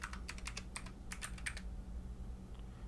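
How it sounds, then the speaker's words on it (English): A password is typed on a computer keyboard as a burst of quick, close key clicks, followed by a pause and one faint final tap, all without talking. "We also need to provide password for this, so let's write a password, or let's write a new password."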